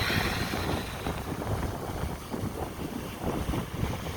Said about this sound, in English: Now close your eyes and just listen to the ocean.